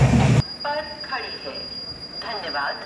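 A Tejas Rajdhani Express train at Badarpur Junction railway station gives a loud burst of rumble that cuts off sharply, followed by squealing wheel and brake tones and a constant high whine under quiet background noise.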